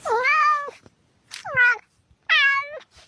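Cats meow three times in a row, each call clear and drawn out with short gaps between, close and alone with no talking.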